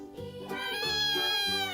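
A cat meows up close, a long, drawn-out, rising and falling cry lasting well under two seconds, loud and clear with no talking over it.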